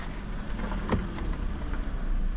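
A 2018 Toyota RAV4 engine runs at idle, a steady low rumble close by with no talk over it.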